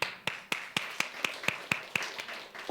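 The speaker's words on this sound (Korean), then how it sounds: "박수" Church congregation at a revival service clapping in applause, a series of sharp claps in a steady rhythm followed by a brief voice at the end.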